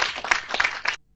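A short burst of audience clapping at a public gathering in Nyandarua, Kenya: dense, close hand claps for about a second, then they stop abruptly into silence.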